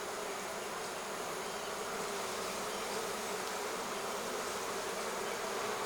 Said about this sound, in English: These bees are getting loud.